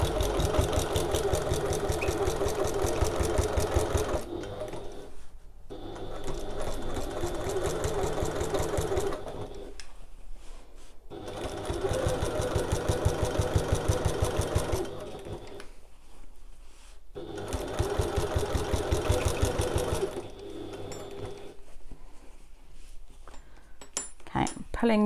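A sewing machine stitches a satchel seam joining the flap to the main panels, running in long steady loud stretches with brief stops between them.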